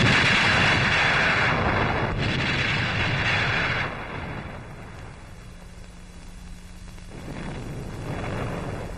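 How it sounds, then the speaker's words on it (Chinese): Enemy artillery shells a position in a Korean War film, with heavy booming blasts and rolling rumble that fade to a quieter lull before swelling again. "敌人怕我们夜间抢修工事，才拼命的打炮。"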